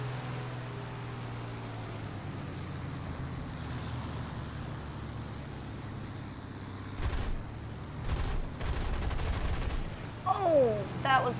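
Cannon and machine gun fire from an enemy P-400-era fighter in the War Thunder game, heard as a few short loud bursts of gunfire over a steady engine drone, growing denser toward the end.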